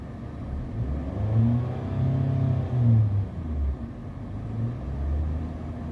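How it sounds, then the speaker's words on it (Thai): A Toyota Camry ACV's engine revs up and down several times, a low rumbling roar swelling and easing in repeated bursts, with no talking. "เดี๋ยวเราลองเร่งเครื่องดูนะคะ"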